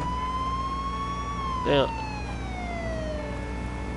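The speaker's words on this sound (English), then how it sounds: "sirens are too goddamn loud" Police sirens wail continuously in a PS4 game, a steady rising and falling electronic tone with a brief crash partway through, while a player speaks briefly over it.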